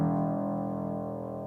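A single low piano note from the long, thick bass strings rings out and sustains, slowly fading, heard alone and close.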